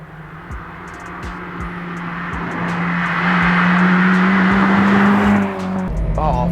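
A Honda Integra Type R DC5 with a 2-litre naturally aspirated petrol engine rising under acceleration, a loud steady engine drone climbing in pitch, then easing off near the end as the revs drop.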